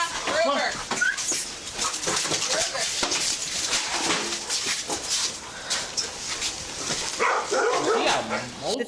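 Three dogs named Stella, Luna and Ruger yip, whimper and bark in a house, short excited bursts mixed with chatter as people talk over them.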